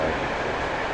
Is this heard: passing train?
yes